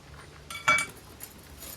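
A knife splits green plantains into quarters, making one sharp, close clink of blade against board, with a few faint lighter ticks around it in a quiet room.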